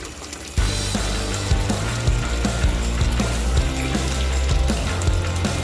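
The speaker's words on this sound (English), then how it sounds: "just add straight hot water" Hot tap water pouring into a pot of beans for red beans and rice, a steady rushing splash that starts abruptly and runs continuously at close range.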